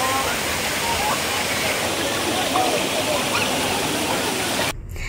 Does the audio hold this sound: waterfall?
yes